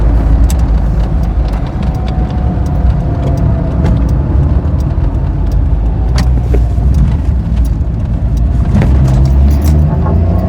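A car on stock suspension drives slowly and turns around on a road. Steady, loud engine and road rumble fill the cabin throughout, with faint rattling on top.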